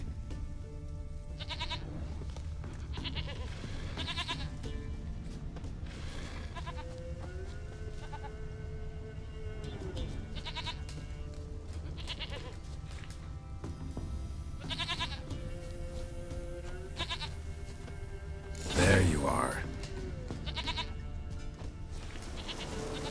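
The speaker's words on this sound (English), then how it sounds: "Here, goat." A goat in The Witcher 3 bleats several times at a moderate distance against a quiet outdoor game ambience, and one louder, sharper call stands out near the end.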